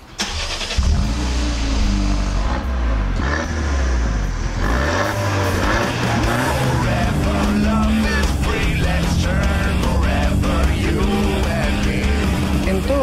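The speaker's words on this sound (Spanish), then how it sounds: "es un escape trabajado con un sonido excepcional" A Peugeot 308 GTi with a 1.6 turbo engine and twin tuned exhaust outlets runs with a loud, steady, deep exhaust note that swells and holds near the microphone, with no talk over it.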